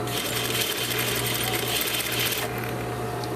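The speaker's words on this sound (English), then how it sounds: "And then sew the exact same way to the other side" A sewing machine runs steadily, stitching the lining of a sleeveless garment with a fast, continuous mechanical hum and rapid needle pulsing that eases off slightly near the end.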